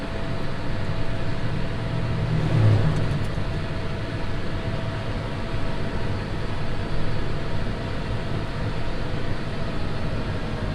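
A John Deere 6155M tractor runs flat out on a road at about 1690 RPM, giving a steady, continuous engine drone and rumble with no breaks.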